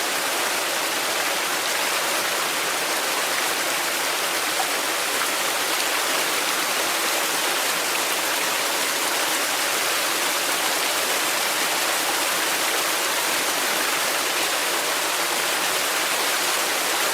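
A mountain stream rushes steadily over rocks near a hidden waterfall, a dense, unbroken hiss filling the whole stretch, close and loud, with no voices.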